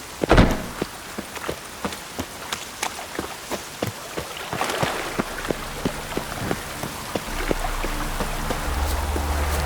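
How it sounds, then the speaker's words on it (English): Steady rain in Witcher 3: Wild Hunt patters on a surface, with distinct drops tapping in an irregular rhythm over a constant wash of falling water; no voices. "Looks like rain."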